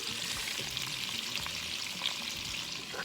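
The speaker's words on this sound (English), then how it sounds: "our sausage is getting nice and brown. I'm about to add in the cabbage" Sausage and cabbage frying together in a pan for a Cajun stir fry, giving a steady, close sizzle with faint stirring scrapes and no pauses.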